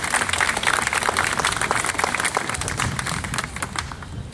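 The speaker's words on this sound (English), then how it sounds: "Round of applause, please." Audience at a school sports awards banquet breaking into sustained applause, many hands clapping in a dense, even patter that carries steadily for several seconds before easing slightly.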